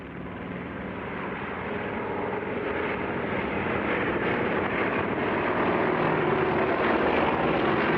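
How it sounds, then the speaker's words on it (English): An Olympic seaplane takes off, its engine a loud, dense roar that holds steady and swells slightly for several seconds with nothing else audible. "Olympic seaplane, you're cleared for takeoff."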